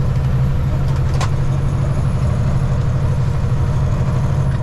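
A heavy transport truck drives along a highway, its low engine drone loud and constant with steady rumble and rattling throughout, no voices.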